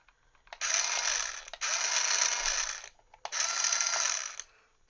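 A Comean RB1903 1:16 scale 2.4GHz two-wheel-drive RC lorry on 4.8V batteries whines with motor and gear noise in three loud, sustained bursts separated by short pauses.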